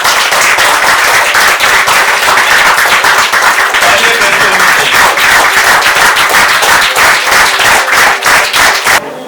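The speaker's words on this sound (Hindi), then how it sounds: "एक बार जोरदार ताली हो जाए शशिकांत कामकर के लिए।" Loud, vigorous applause from a meditation gathering at a festival, with many hands clapping in a brisk, slightly uneven rhythm that stays full for several seconds before tapering off at the end.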